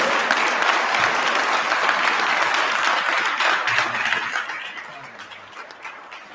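Audience at a Baltimore Police Department promotional ceremony applauding a newly promoted colonel, dense clapping that holds steady then fades away toward the end, with a few murmured voices at the tail.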